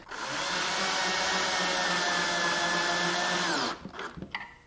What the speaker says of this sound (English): Then we can tighten up the pocket hole screws that hold the bottom shelf against the legs.